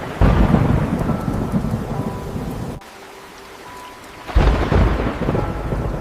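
A thunderstorm pours steady rain outside a small village kitchen, with rolling thunder swelling over the downpour, easing briefly to a softer hiss, then surging back loud and close.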